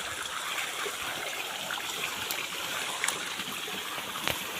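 Cold water rushes and splashes continuously during outdoor bathing on a sunny summer day, a steady close wash of sound with a few sharper splashes.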